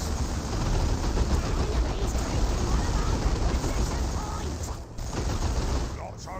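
Sustained automatic gunfire striking a power node in the strategy game Dawn of War 2, a dense continuous rattle of shots with someone talking over it.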